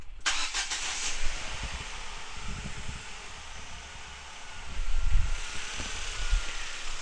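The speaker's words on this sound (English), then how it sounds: "And I'm going to start the engine." A car engine cranks and catches, a brief starter whir followed by a steady idle with mechanical noise, close and fairly loud with no voices, on a car being checked for a misfire.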